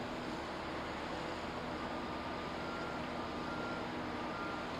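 A steady electronic beeping alarm repeats from a Caterpillar A40G mining truck that fails to shift, over a low idling heavy engine rumble, with no talking.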